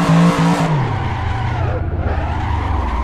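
Car drifting around a karting circuit in Assetto Corsa, with a loud continuous tire squeal over a roaring, shifting engine, held close and steady throughout.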